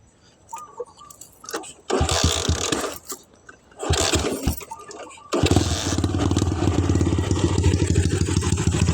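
A motorcycle engine is heard nearby after some jangling and handling noises: a few short revving bursts, then a steady, even idle that runs alone until the end.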